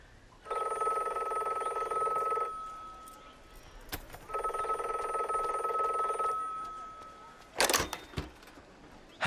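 A telephone rings for an incoming call, two long bursts of ringing separated by a pause, loud and close in a quiet room, followed by brief handling clatter as the phone is picked up.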